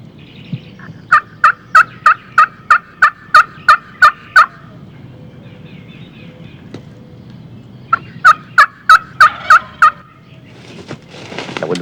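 Wild Merriam turkey gobblers answer calling during a spring hunt with two loud, close runs of rapid, evenly spaced pulsing notes, separated by a quieter gap with outdoor ambience.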